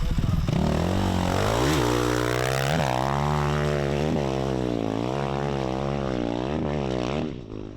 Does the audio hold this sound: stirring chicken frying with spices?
no